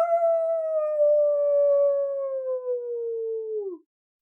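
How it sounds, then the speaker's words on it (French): A single wolf howl, one long smooth tone that starts high and slowly sinks in pitch for nearly four seconds before dropping off abruptly, clear and alone against silence. "Elle fut tirée de ses pensées par le hurlement du loup."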